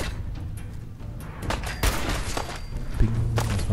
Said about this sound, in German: Das waren sehr gute Schüsse.